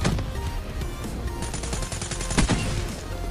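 Rapid gunfire in Black Ops 3 hardcore kill confirmed, with a RazorBack submachine gun: a steady, dense burst of shots running under constant match noise, with a sharper crack near the end.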